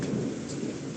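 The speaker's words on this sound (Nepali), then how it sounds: "पानी पर्यो पानी पर्यो" Thunder rumbling low over steady rain during a rural outdoor party, a dense continuous roar heard close and loud with no talk.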